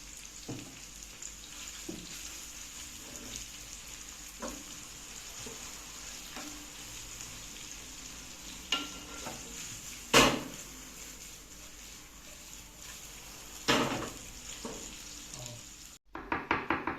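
Onions and peppers sizzle steadily in a pan while cooking snails, with occasional utensil knocks and stirring clatter, and louder clanks near the end.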